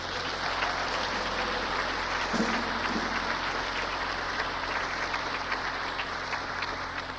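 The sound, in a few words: audience applause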